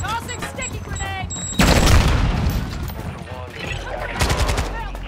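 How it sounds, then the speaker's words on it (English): A sticky grenade goes off in Warzone 2.0 with a sudden heavy blast, followed by bursts of rapid gunfire and a second loud volley near the end, while a player speaks before the explosion. "Tossing sticky grenade!"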